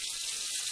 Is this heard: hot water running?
yes